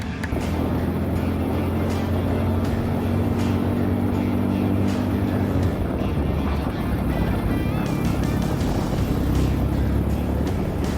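Racing karts on the final lap of a North Texas club race: a sustained engine drone from nearby karts, rising and falling as they pass, with a steady outdoor roar throughout.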